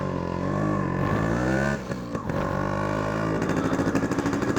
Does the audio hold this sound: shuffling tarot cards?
no